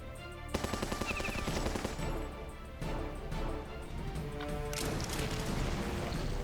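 Machine gun fire in Battle Nations, a steady rattling stream of rapid shots with crashing impacts, close and continuous over game music.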